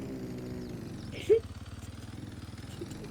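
A motorcycle engine putters at a steady, rhythmic idle-like throb throughout, fairly close, with a brief louder blip partway through and faint voices.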